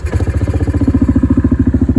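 A Kodiak 700 ATV fitted with an HMF Swamp XL exhaust fires up on a cool morning and settles into a loud, fast, even idle, the exhaust thumping in a tight regular pulse close by.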